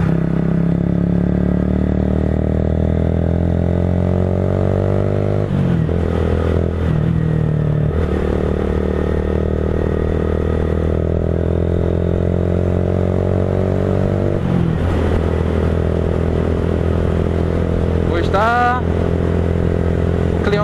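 Motorcycles revving as riders pull wheelies at a street meet by a cable-stayed bridge: continuous loud, close engine drone with rising and falling revs, several sharp throttle blips and a brief high whine near the end.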